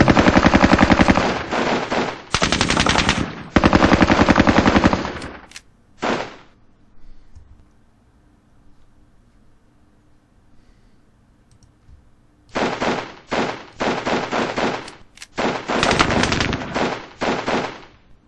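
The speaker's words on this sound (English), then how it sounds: "So let's start with the rifles. Light machine gun." A light machine gun fires in a World War II strategy video game in loud, sharp bursts near the start, then falls silent for several seconds before several more rapid bursts.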